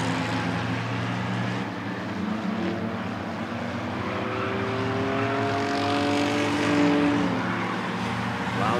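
Race cars lapping at Rockford Speedway during a Sixers heat, a continuous loud roar of engines with rising and falling pitch as the field passes, carried under a crowd and track-side ambience.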